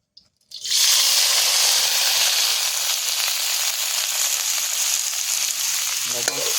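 Potatoes dropped into hot oil in a pan, an abrupt start followed by a loud, steady, hissing sizzle that holds evenly throughout.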